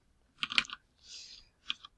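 Typing on a computer keyboard: close, crisp clusters of key clicks in two short bursts separated by a softer swish, with no voices.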